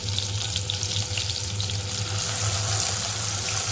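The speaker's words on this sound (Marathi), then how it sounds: "त्याला व्यवस्थित परतून घ्यायचं तेल सुटेपर्यंत" Ground masala paste sizzles steadily in hot oil for a soybean curry, with a loud, continuous close frying crackle and occasional stirring sounds.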